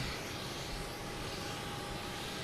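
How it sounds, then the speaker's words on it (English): Alaska Airlines Boeing 737 MAX 9 arriving from Seattle at Boston Logan, a faint, steady, distant jet roar that holds evenly throughout. "We have that Alaska coming in from Seattle."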